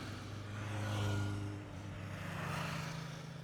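A motorcycle rides along a road with a low engine drone and a swelling, fading hum of revs and wind, faint and continuous with no voices.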